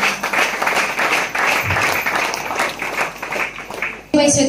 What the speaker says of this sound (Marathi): आपण पजवरा टाळ्या वाजून प्रभूचे आभार मानायचे आहे.